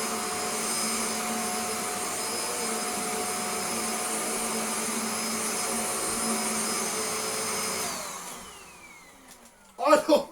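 Shark NV680UK Power Speed Lift Away vacuum cleaner running on carpet with a steady high whine for about eight seconds, then the motor winds down and a few brief knocks follow.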